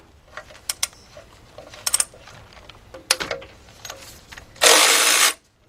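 A ratchet loosens the 12mm bolts on a Honda exhaust manifold heat shield in a series of near, sharp metallic clicks and short ratcheting bursts, ending in a louder, steady whirring stretch.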